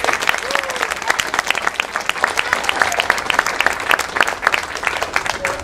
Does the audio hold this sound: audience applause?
yes